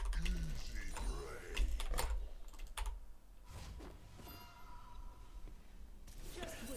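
Typing on a computer keyboard during a League of Legends game session, with rapid clattering keystrokes under someone talking, fading to lighter scattered key clicks.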